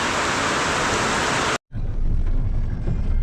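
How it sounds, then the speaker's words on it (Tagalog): Heavy rain pours down in a loud, dense hiss, cutting out for a split second before resuming just as strong, with a low roar underneath. "Ay, ulan."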